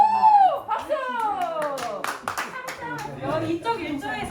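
Group of villagers clapping together at a community education session, steady claps running throughout with speech and chatter over the top.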